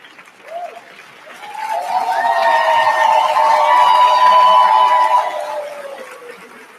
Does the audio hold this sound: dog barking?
no